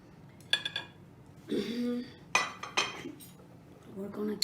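Utensils clink and scrape against pots and a serving dish as risotto is spooned out, a few short clattering bursts with pauses between, close and moderately loud, with a voice heard briefly.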